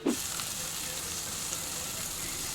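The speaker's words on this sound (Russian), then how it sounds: "Сначала они жарятся во фритюре, вон там, просто куски банана, платана" Plantain pieces deep-frying in oil for patacones in a hostel kitchen in Bocas del Toro give a steady, even sizzling hiss that runs close and unbroken throughout, with no talking.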